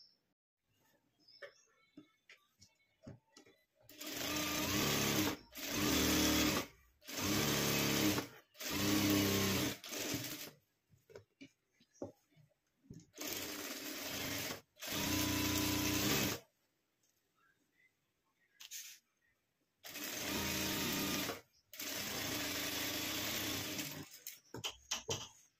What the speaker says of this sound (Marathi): तर चला आता आपण याला टिप मारून घेऊया।